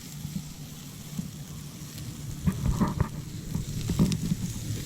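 Food sizzles and crackles steadily in a pan, with a few louder pops and stirring clatters partway through.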